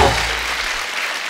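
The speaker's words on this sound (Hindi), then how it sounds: "जोरदार तालियां टाइगर और श्रद्धा के लिए" A studio audience on The Kapil Sharma Show gives loud, dense applause for actors Tiger Shroff and Shraddha Kapoor, a continuous close roar that eases slightly toward the end.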